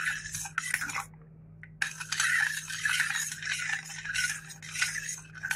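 A spoon scrapes and clinks around a pot of hot sahlab drink mixed with starch, in quick, uneven strokes, with a brief pause before the stirring resumes steadily.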